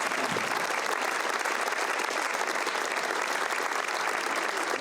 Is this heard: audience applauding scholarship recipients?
yes